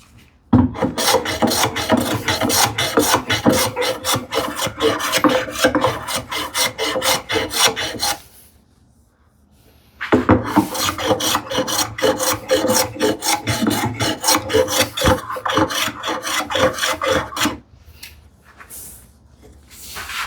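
Hand sanding wood with 220 grit sandpaper while building a cupboard: rapid, rhythmic back-and-forth rasping strokes, close and loud, in two long runs with a short pause between them.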